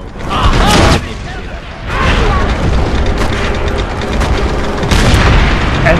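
Tank cannon fire in Call of Duty: World at War: a heavy, loud boom opens the clip, and a second blast comes later over constant rumbling battle noise and mechanical clatter.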